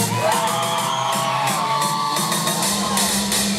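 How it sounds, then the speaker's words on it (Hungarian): A concert crowd at a live Hungarian pop show screams and whoops on cue, a dense, loud wall of shrieking voices sustained for several seconds with music faintly underneath. "Na háromra kérlek egy visítás."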